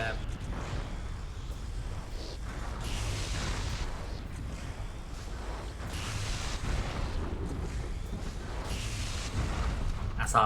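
Cannon fire from a mech in the Xbox game MechAssault, heard as repeated heavy booms and rumbling blasts over a continuous noisy battle bed, with a voice talking over it.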